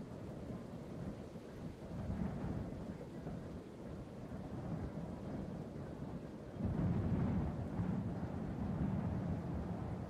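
Steady rain falls with deep rolling thunder, a continuous low rumble that swells louder partway through, with no voices.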